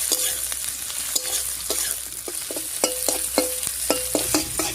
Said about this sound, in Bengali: পেঁয়াজ, রসুন, লঙ্কা সবকিছু খুব ভালো করে ভাজা হয়ে গেছে।